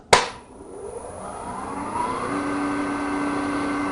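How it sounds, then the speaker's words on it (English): A wood lathe spins a new block mounted on a spindle tap chuck up to about 500 RPM, starting with a sharp click, then a steady rising motor whine and hum that settles into a constant running tone, alone without talk. "Now let's spin up the new block and see how close to center it really is."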